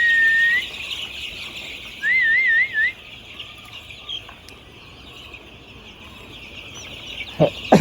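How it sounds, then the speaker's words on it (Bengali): Chickens on a farm, jumping about while being fed, with a few sharp calls and whistled, warbling bird notes standing out over a steady background chatter and scattered rustling. "এই দেখেন মুরগিগুলা কি লাফালাফি করে"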